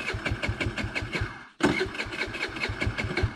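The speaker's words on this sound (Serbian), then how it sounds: "idemo upaliti skuter pa idemo se provesti" A scooter's engine cranks repeatedly with a rhythmic churning, cuts out briefly, then cranks again in quick pulses, close and fairly quiet.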